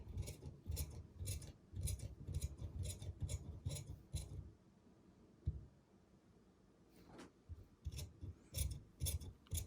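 Tailor's scissors cut bespoke jacket fabric in quick, rhythmic runs of close crisp snips, pausing midway before the cutting resumes, quiet and near with no voices.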